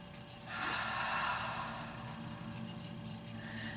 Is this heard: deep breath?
yes